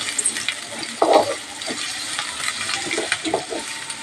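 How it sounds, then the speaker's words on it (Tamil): Onions and dried red chillies sautéing in a pan for banana flower poriyal, a light crackling sizzle with scattered spoon clinks and scrapes, close and moderately loud. "இப்போ வெங்காயம் நல்லா வதங்குது"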